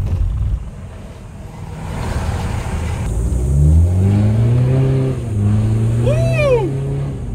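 A modified BMW 520d with a 2-litre engine revs close by, a low rumble swelling into several rising blips that peak and fall back, loud and without talk over it.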